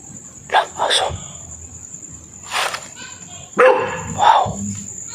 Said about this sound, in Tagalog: Wow, may aso.